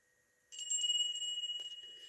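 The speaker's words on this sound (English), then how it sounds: "Marlon, we're ringing the bell 3 times" A bell is struck once and rings out with a bright, sustained, gently pulsing tone that slowly fades over quiet room background, with no talking.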